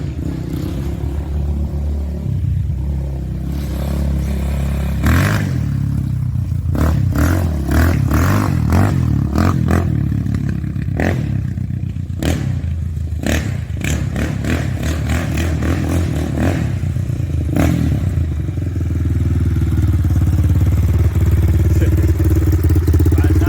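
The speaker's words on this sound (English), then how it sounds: "Obviously, this quad will never get out of second gear." A Honda 400ex ATV with a titanium-wrapped exhaust idling and revving close by in a steady, loud run of rapid throttle blips with some clatter, no voices.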